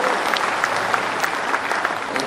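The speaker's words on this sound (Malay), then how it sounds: "Kita berikan tepukan gemuruh" A convention hall audience claps in sustained, dense applause at a political gathering, the crowd noise steady and loud throughout with faint voices mixed in.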